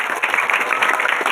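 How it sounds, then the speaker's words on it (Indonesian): An audience at a regent's school population-awareness event in Barito Kuala claps in a short, dense burst of applause that stays loud throughout. "Tepuk tangan buat Ibu dulu, luar biasa."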